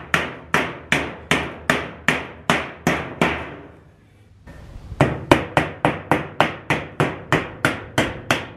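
Hammer blows on a nail while a mousetrap is built: a steady run of sharp, loud, evenly spaced strikes, a brief pause, then another quick regular series of close knocks.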